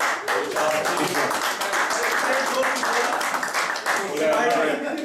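Applause rolls through a cricket club season-end party, a crowd clapping steadily at moderate loudness with voices talking over it.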